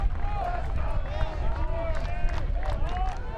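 A college baseball crowd at a conference championship game cheers and shouts in a broad, loud wash of voices, with a commentator talking over it.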